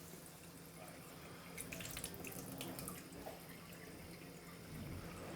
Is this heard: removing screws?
no